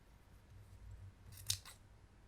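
Scissors snip through the looped strands of a small yarn pompon, giving a single quiet crisp cut with a faint slide around it in an otherwise hushed room.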